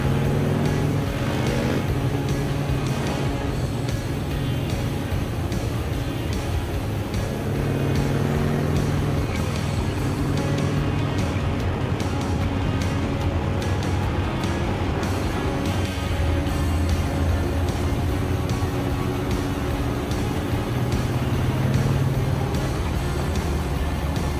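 A group of bikers on Réunion rev their motorbikes, a sustained rumbling engine roar that swells and surges with throttle blips over about twenty-four seconds.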